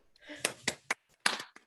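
Scattered claps from an online audience over a video call, a handful of sharp, separate hits spread across a couple of seconds, thin and uneven rather than a full ovation.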